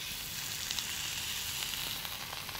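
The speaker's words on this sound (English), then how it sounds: "I'm going to start getting this chicken. Yep. Sizzle, that's what we want." Chicken sizzling steadily in a hot pan, a constant crackling hiss with small pops, fairly quiet and close, no voices.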